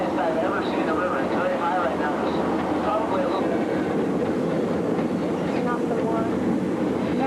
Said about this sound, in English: There's the train we're taking.